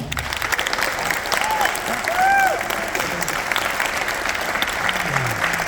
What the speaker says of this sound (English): I want a huge applause for all the band directors that put this together for us